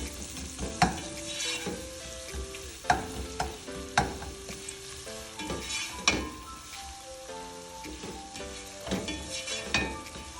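Onions frying in a pan, a bright continuous sizzle broken by several stirring knocks and scrapes of a utensil, with soft background music and no speech.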